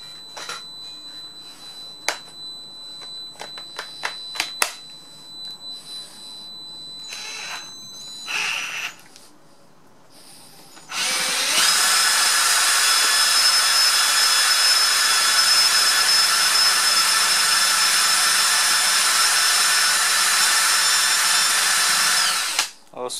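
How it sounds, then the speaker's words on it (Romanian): An electric drill spins a refrigerator compressor converted into a generator. After several seconds of clicks and handling, a loud, steady high whine starts and runs unbroken for about twelve seconds before cutting off. "Haideți să punem bormașina."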